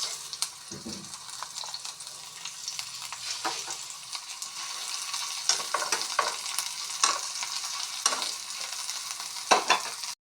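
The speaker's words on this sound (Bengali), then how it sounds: "কড়াইতে তেল হিট হয়ে আজ আসছে এখন দিয়ে দিচ্ছি পেঁয়াজ" Onions sizzle in hot oil in a wok (kadai) as a dried-fish, taro and bean curry gets underway, with a steady crackling frying hiss, scattered clinks and scrapes of stirring, and a few sharper pops near the end; no talking.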